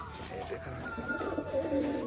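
Pigeons coo steadily and close by as the flock gathers to drink fresh water, soft layered calls running throughout with a little background noise.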